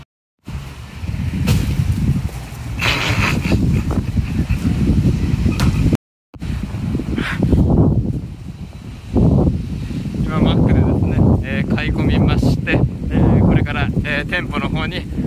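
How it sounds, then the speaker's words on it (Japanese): Strong wind buffeting the microphone outdoors in Makuhari, a loud, continuous roar and rumble with gusty surges, heard under someone talking throughout. "風が強いです。 幕張風が吹いております。"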